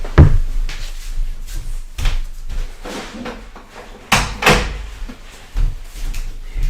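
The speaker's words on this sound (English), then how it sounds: "Let me shut this door." A door being shut indoors, with a few sharp knocks and thuds spread across the clip over a quiet room background.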